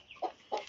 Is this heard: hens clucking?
yes